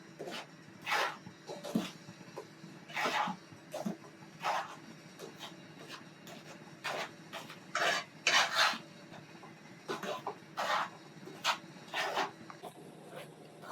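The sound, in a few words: dry-roasting flour in a hot kadai for poorana kozhukattai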